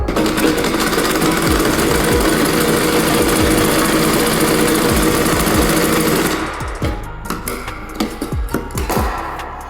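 A sewing machine stitches loudly and steadily after its thread tension has been adjusted, then stops, leaving a few closer mechanical clunks and taps.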